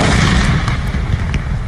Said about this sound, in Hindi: घर के ऊपर खड़ा हूं, ये सामने अभी धमाका